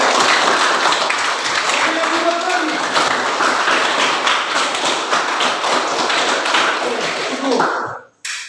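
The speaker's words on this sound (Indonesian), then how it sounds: "kita kasih tepuk tangan untuk kelompok yang" A class applauds a presenting group during a teaching-practice lesson, with loud, continuous clapping and tapping that carries on for several seconds before cutting off abruptly, voices audible beneath it.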